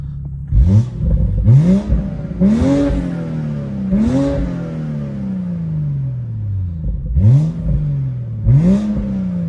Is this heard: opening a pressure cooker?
no